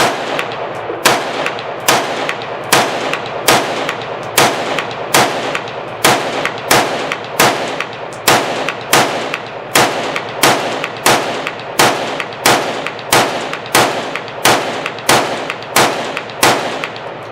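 An AR-15 rifle with a Promag polymer magazine fires at a range, about seventeen sharp, loud shots spaced roughly a second apart in a steady rhythm, with no talk between them.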